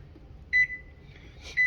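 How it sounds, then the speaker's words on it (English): A kitchen oven's timer beeps while being set: a short tonal beep, a sustained lower tone, a brief blip, then another beep, close and clear with no talking. "Close the oven, set my timer."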